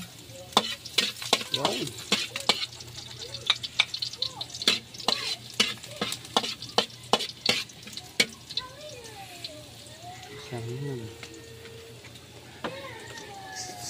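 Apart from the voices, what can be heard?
garlic sizzling while being stir-fried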